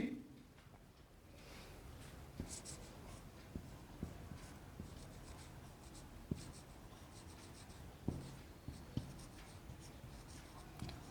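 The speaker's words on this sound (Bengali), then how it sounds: "আমি একটা উদাহরণ এখানে লিখে দিচ্ছি" A pen writes an example sentence in a school lesson, making quiet scratchy strokes with small taps scattered through, soft and close in a hushed room.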